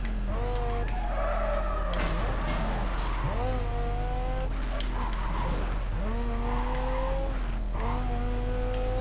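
A car in Need for Speed Carbon racing into a curve at high speed: a loud engine whine climbs and drops through repeated gear shifts, with tire squeal as it takes the bend.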